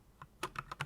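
Computer keyboard keys tapped in a quick run of about four distinct clicks, close and fairly quiet, with no talking.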